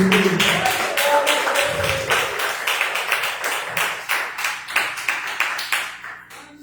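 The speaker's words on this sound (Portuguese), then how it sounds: "Mais palmas, coroas." Rhythmic group clapping in a church service, steady in-time claps repeating across the stretch, with a few faint voices underneath before the clapping thins out near the end.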